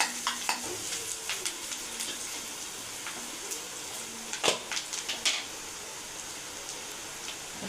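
Food sautés in a pan until brown, a low continuous sizzle broken by scattered utensil scrapes and taps, a brief cluster of louder clinks midway, then steadier frying toward the end.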